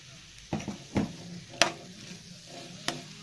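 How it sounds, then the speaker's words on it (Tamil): Baby potatoes with ground coconut paste roasting in a pan, a low sizzle under a few distinct spatula scrapes and clanks against the pan, close and moderate, spaced irregularly with quiet gaps. "3 நிமிஷம் நல்லா ரோஸ்ட் ஆகட்டும்."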